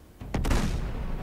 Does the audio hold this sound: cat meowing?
no